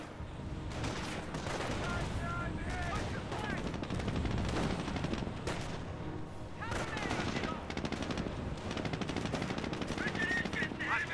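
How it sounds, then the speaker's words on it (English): MG42 machine gun fire rattles in long rapid bursts amid a chaotic Company of Heroes battle, layered with other gunfire and distant explosions, while voices talk over the action. "Over here, MG42 finds a rifleman."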